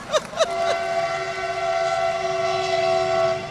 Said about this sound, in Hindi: जैसे ही मैंने पंक्ति पढ़ी वहां से दूसरी रेल आ गई थी।